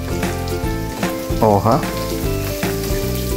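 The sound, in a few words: onions sizzling as added to browning pan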